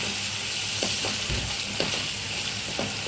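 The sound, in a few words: onions frying in masala with salt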